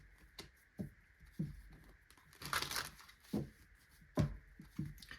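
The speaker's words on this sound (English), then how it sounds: "So I'm just going to give these a quick shuffle." Tarot cards shuffled by hand close up, soft irregular riffles and slaps of the cards with brief papery rustling bursts, quiet and alone.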